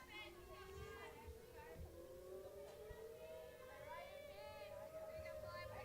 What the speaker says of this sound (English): Our weekly Wednesday tornado sirens going off as 12 o'clock noon hits here in Hot Springs, Arkansas